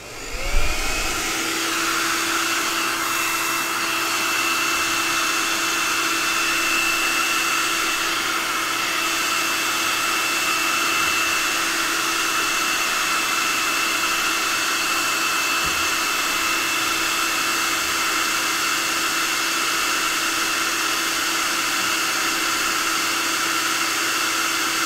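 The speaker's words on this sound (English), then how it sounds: "I'm going to have to get a blow dryer." A blow dryer runs steadily and loud for the full stretch, drying paint on a miniature, its motor whine holding a constant pitch with broad airy hiss and no talk.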